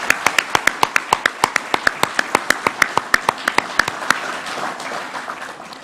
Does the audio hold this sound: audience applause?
yes